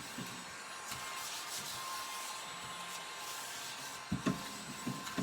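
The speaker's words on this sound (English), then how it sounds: "I'm going to get my little trusty vacuum out again and vacuum up these little pieces here" A small handheld vacuum whirs with a steady hiss as it sucks up little paper scraps on a crafting table, with a few brief clacks near the end.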